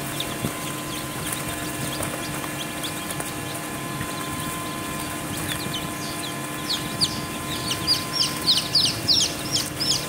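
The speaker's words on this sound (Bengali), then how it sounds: "মুরগির বাচ্চা আরআইআর ও হাওমি মুরগির বাচ্চা" RIR and Haomi chicken chicks cheep in a farm setting, high thin peeps scattered at first and then clustering into a busy run of calls near the end over a low steady hum.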